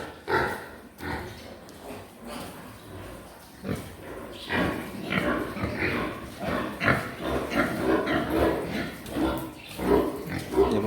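Yorkshire pigs at a government pig farm in Assam grunt and snuffle continuously in a dense, overlapping chorus, close and fairly loud, with the jumbled noise of a busy pen around them.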